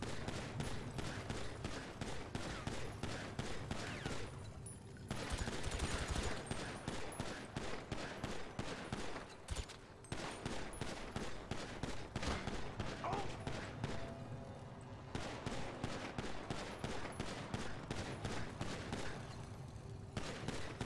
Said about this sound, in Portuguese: Onde é que esse cara tá atirando